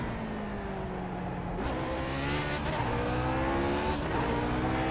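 A Lotus 49 race car engine runs at Zolder and holds a loud, steady roar. Its pitch climbs and then drops through gear changes across the stretch.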